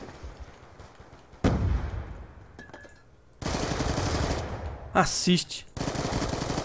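MP7 or MSMC submachine gun fire in a Black Ops 2 team deathmatch on Nuketown, several bursts of rapid automatic shots separated by gaps, with a player briefly speaking between them.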